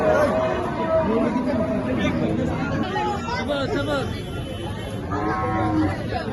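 Cattle moo now and then amid the steady hubbub of a crowded outdoor livestock market, with people chattering all around.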